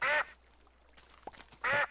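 Ducks quack in the Minecraft-style game YogsBox: two short, bright, nasal quacks, one at the very start and one at the end, with a quiet gap in between that holds a few faint clicks.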